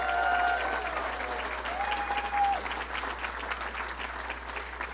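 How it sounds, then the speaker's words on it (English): Audience applause at an awards event during a political speech, a steady wash of many hands clapping that holds at an even level throughout, with a faint high tone ringing through it. "Let's give her a round of applause."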